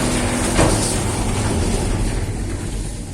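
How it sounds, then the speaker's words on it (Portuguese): A heavy truck rolls past as a loud, broad, steady roar with deep rumble throughout, peaking briefly early on and then fading slightly. "você vai ouvir um ruído da carreta passando"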